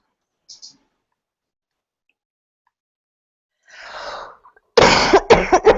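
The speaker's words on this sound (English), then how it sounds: "You hear me coughing." A person coughs during an online mentor hangout: a brief faint sound early, a muffled rustle, then a loud close cough burst with a few sharp follow-up coughs at the end.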